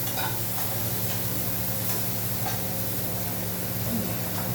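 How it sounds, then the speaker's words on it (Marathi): Cluster beans and val beans frying in a pan while being stirred, a steady close hiss of oil with faint scattered clicks and scrapes over a low constant hum. "गवार आणि वालाचे हलवून घ्यायचं."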